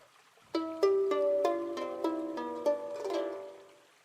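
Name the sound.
harp playing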